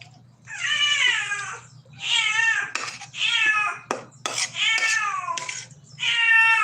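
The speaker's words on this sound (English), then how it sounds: "My cats are noisy." Several house cats meow loudly and insistently, giving roughly five long, drawn-out wailing calls one after another. Short clattering knocks fall between the calls, and a low steady hum runs underneath.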